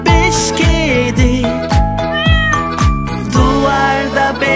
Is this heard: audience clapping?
no